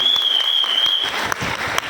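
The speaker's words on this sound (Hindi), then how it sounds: "उनके लिए हम चाहेंगे जोरदार ताली हो जाए" Audience applause fills a hall at a motivational business talk, steady clapping over a sustained high electronic tone, loud and close throughout the short burst.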